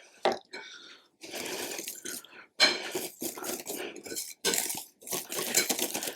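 A spoon scraping and clinking against a bowl while whipped cream is folded into a cheesecake mixture, irregular bursts of scrapes and taps with a brief voice-like sound early on.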